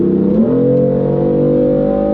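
A 2015 BMW M3 engine revs up and holds at a steady high pitch in gear, loud and close, with no voices.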